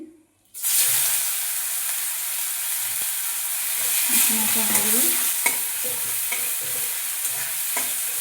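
Chopped onions frying in oil with whole cumin in a pan, a loud steady sizzle that starts abruptly and continues evenly, with faint stirring scrapes.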